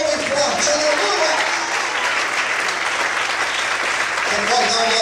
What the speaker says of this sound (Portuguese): glorifique e aplauda o Senhor bem forte